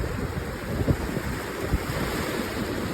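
Ocean waves roll in, a steady broad wash of surf with light wind over the microphone and a couple of soft low thumps, continuous and fairly loud with no voices.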